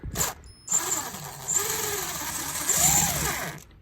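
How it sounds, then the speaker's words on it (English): A cordless screw gun backs T20 screws out of a 2014-2018 GM truck cargo light, its motor whirring close up with a short first burst, then a longer run whose pitch rises and falls. "I'm using a screw gun because, well, don't feel like using a screwdriver"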